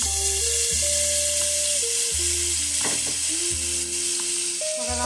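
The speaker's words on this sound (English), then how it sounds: "Once your butter has melted, we're going to add in our shrimp." Shrimp in melted butter in a pan, a steady loud sizzle and crackle of frying throughout, with a low hum and a background tone that shifts in pitch underneath.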